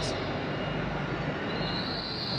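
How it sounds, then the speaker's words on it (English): Hitachi Class 800 five-carriage train arriving at a platform: a steady, loud broadband rumble and hiss of rolling stock, with a faint high-pitched squeal rising toward the end. "which is arriving at platform 1, where our departure is scheduled"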